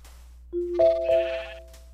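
A sheep in Minecraft gives a single short synthetic bleat, clear and alone against a quiet background.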